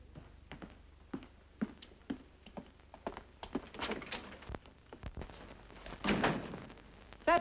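A door is worked open and shut in a 1952 film scene, giving a run of sharp thunks, knocks and a closing slam, moderately close, with scattered rustling between impacts.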